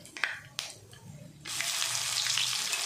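Ginger and garlic hit hot oil with cumin and mustard seeds, bursting into a loud, steady close sizzle after a few brief clinks and scrapes.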